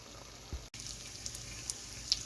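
Bacon frying in a pan at breakfast time, with a steady low sizzle and scattered crackles and pops, fairly quiet and close, with no voices.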